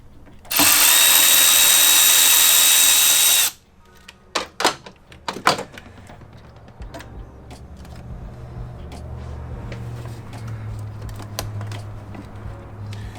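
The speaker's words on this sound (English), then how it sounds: "You'll use a T25 to take this bolt out." A power driver fitted with a T25 Torx bit backs a bolt out of the brake reservoir on a BMW E46, a loud steady whir of about three seconds followed by clicks and clatter of the bolt and tools.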